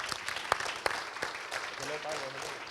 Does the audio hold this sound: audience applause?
yes